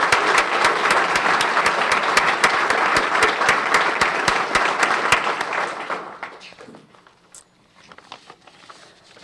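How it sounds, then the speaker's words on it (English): An audience at a county small business of the year awards applauds the finalists, with sharp, dense clapping that holds strong for several seconds and then trails off into a quiet room. "Please join me in giving a round of applause to these wonderful small businesses"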